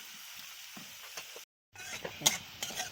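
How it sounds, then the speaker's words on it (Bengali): Chopped beans and carrots fry in a pan with a crackling sizzle and light stirring scrapes, broken by a short silent gap before the frying resumes a little louder. "বিনস আর গাজর ভাজা হয়ে গিয়েছে"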